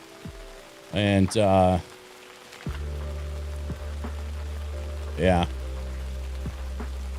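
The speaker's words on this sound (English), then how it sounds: "I'm getting rained on" Steady rain patters on surfaces in a camping video game, a soft continuous wash under game music and tones, with someone talking briefly in two short bursts.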